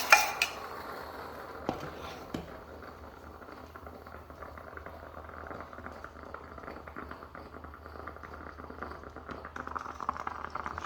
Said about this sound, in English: You hear the coffee finishing percolating.